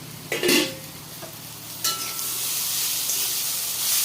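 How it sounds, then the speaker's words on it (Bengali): Kohlrabi frying in a pan makes a steady sizzle, with a couple of short scraping stirs near the start before the frying hiss settles and continues. "ওলকপি ভাজাটা হয়ে গেছে আমি ভেজে নিচ্ছি"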